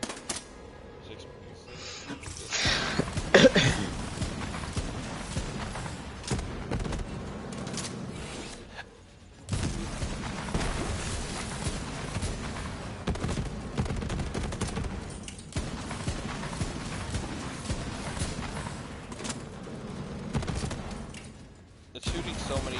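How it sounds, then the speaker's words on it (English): Rapid, dense gunfire in Borderlands 3 crackles as a continuous stuttering barrage, so fast it smears into a glitchy buzz, with brief gaps and a voice talking over it. "It's shooting so many times that it's literally glitching out the sound."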